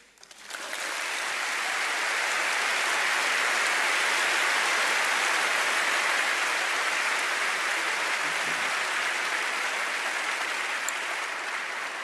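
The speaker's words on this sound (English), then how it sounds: "Ladies and gentlemen, save your applause" Sustained applause from a large audience at a public lecture event, a dense, steady wash of clapping that swells in quickly and holds at full loudness throughout, with no talk over it.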